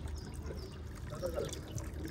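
Hot water runs from a household tap in a steady, splashing trickle with small gurgles, close by and fairly quiet, with no voices over it.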